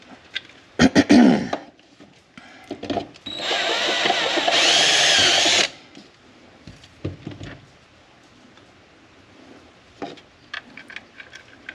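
A power drill widens holes in a 3D-printed part for a motorized Dobsonian telescope, whirring in one steady burst of about a second and a half, with short clicks and knocks of handling before and after.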